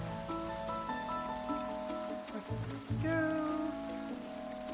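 Steady rain patters in the farming game Grimshire, a soft, continuous hiss running under calm background music with tonal notes.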